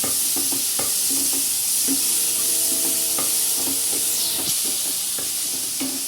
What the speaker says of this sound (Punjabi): ਬੜੀਆਂ ਪਾ ਕੇ ਇਹਨਾਂ ਨੂੰ ਚੰਗੀ ਤਰ੍ਹਾਂ ਆਪਾਂ ਰਲਾ ਦੇਣਾ